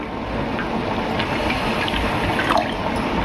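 Water streams steadily into a pan holding sugar for a cardamom-flavoured sugar syrup for balushahi, a continuous close pouring rush with no talk.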